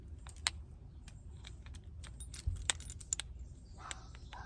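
Keys on a keychain jangle softly in short metallic clinks and rattles, scattered irregularly and close to the microphone, with no talk.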